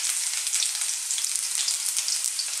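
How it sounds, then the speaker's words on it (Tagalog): Garlic and ginger fry in hot oil in a wok, giving a steady, close, bright sizzle that crackles evenly throughout with no talking. "Mainit na po yung ating wok. May mantika na rin po siya. So, lalagyan na po natin ang garlic."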